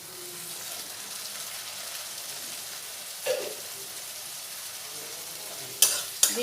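Chopped tomato and onions fry in a pan for a village-style duck curry, giving a steady, even sizzle with a soft stirring scrape and a few sharp utensil clinks near the end.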